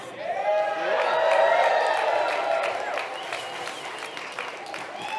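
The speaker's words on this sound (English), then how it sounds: "let's clap it up for this winner." Crowd at an outdoor sports shop's winter climbing presentation applauding a raffle winner, a full, loud burst of clapping with whoops and whistles that swells, then slowly thins.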